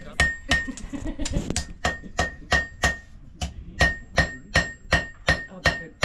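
A blacksmith hammers a hot knife blank on an anvil at a historic forge, drawing out the steel with a steady run of sharp, ringing metallic strikes about twice per second, close and loud.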